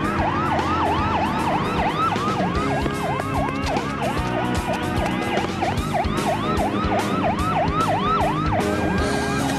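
A wailing ambulance siren cycles up and down continuously in quick, regular sweeps, loud and close, with a steady background rumble and no voices.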